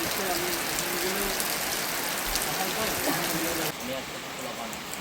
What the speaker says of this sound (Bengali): আপনারা বৃষ্টি দেখুন।